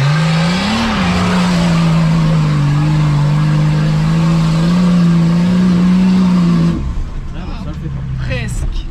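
An off-road 4x4's original Nissan RD28T turbo diesel engine drones steadily at close range, its pitch rising slightly then holding level before cutting off near the end.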